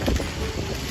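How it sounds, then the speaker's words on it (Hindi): Steady outdoor wind gusting against the microphone near a street chaat stall outside a mall, a continuous low rumble throughout with no talking. "हवा चल रही है"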